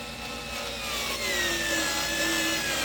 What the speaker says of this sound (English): when you talk about something like these 1-inch little drywall screws, it'll probably drive these things